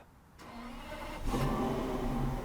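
A Toyota Century V12 engine cranks briefly and catches, settling into a smooth, steady idle nearby.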